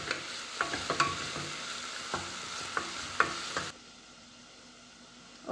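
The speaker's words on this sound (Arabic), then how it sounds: "طبعا الثوم لازم بنقلبه مش بنسيبه عشان ما يتحرقش لانه بيحمر بسرعه" Garlic sizzles in a pan while a spoon stirs it, a steady close hiss punctuated by light taps and scrapes, then the frying drops away to near quiet before a brief final burst.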